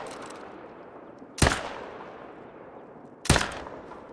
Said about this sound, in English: Oh yeah, perfect follow-up shots.